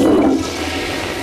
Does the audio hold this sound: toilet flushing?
yes